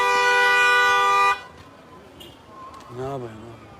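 A car horn blares in one long, loud, steady honk outside a hospital, then cuts off, followed by quieter street noise and a voice.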